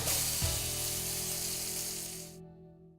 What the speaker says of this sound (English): We wanna brown the lamb a little bit, helps give it color.